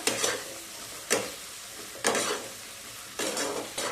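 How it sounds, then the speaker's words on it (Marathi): Drumsticks and potatoes stir-fried in a pan, four distinct scraping stirs roughly a second apart over a continuous soft sizzle, close and fairly loud. "शेवग्याच्या शेंगा आणि बटाटा घेतला होता हा यामध्ये घालणार आहे आणि हे सुद्धा छान असं परतवून घ्यायचे"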